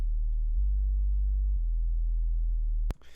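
Deep 808 sub bass notes under a compressor set to a 100 ms release, sustained low tones changing pitch roughly every second, ending in a sharp click, with no talking.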